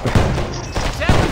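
Bursts of MP5 submachine gun fire in the Earthfall video game on Nintendo Switch, two short loud volleys close up with low game noise between them.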